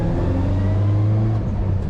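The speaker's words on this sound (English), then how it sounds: "Bit of traffic here." A car passes on a nearby road, a steady engine drone and tyre hum holding loud and close for about two seconds, then easing slightly as it moves away.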